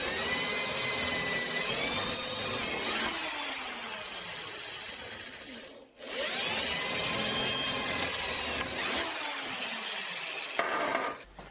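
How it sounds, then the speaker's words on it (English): Loud, continuous drilling of two 5 mm holes into a metal barrel-hoop strip, the whine rising and falling over two long passes with a brief pause between, no voices. "We drill two holes in our strip, each with a diameter of 5 millimeters."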